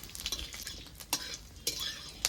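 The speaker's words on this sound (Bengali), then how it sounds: "একটু নেড়ে চেড়ে নেব" Dried red chili and radhuni seeds stirred in hot oil, with a low sizzle and a few sharp spatula scrapes against the pan, close and without speech.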